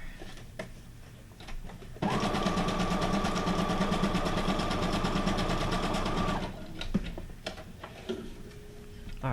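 Sewing machine stitching a paper journal card made from a guest check: a steady, fast mechanical whir running for about four seconds between scattered handling clicks and taps.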